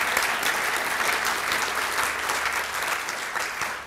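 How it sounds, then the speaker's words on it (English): An audience at an archaeology event applauds a stage panel with a dense, even wash of many hands clapping that holds steady for several seconds, with no speech on top. "I want everyone to clap you because it's happened again."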